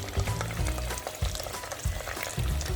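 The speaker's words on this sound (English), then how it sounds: "And now I'm going to add my tomato juice" Tomato juice of the Italian brand Foamy hits a hot pan while cooking Turkish Iskender kebap, giving repeated bursts of close, crackling sizzle alongside stirring.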